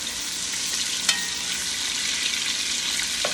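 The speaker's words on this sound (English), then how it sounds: "cooking the cabbage with celery" Cabbage and celery frying in a pan give a steady, close hiss of sizzling, with a couple of faint clicks and no voices.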